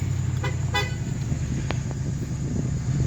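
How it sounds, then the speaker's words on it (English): Two short Ford F-150 horn toots, the second slightly longer, heard over a steady low engine rumble. "There's the horn."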